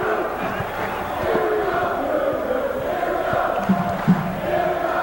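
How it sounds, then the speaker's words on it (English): A college basketball arena crowd, UCLA at Washington State in 1980, roars and yells continuously, a dense steady wall of massed voices with a few sharper shouts rising near the end. "the way this crowd is yelling out here"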